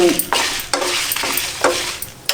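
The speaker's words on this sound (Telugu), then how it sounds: "సో ఇవన్నీ బాగా వేయించుకుంటూ ఉండాలి" Red chillies and dry coconut fry in a pan, giving a close, loud sizzle as a spoon scrapes through them in three or four distinct strokes.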